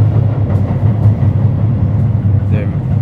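A loud, steady rumble of a train rolling past, with a continuous low drone filling the whole stretch.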